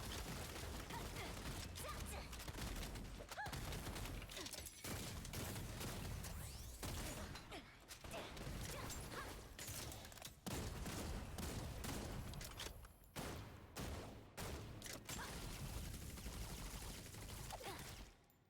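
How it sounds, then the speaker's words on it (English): Shotgun skills firing in the online action game Lost Ark during a boss fight: rapid, dense blasts and impacts with shattering crashes, continuous and quite faint throughout. "you should be prioritizing your 2 shotgun skills"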